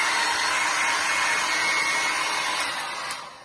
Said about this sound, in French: Et après, on va utiliser le sèche-cheveux.